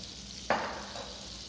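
Butter hits a heated pan with a sudden crackling sizzle that settles into a steady, soft frying hiss, close by and alone, with no voices.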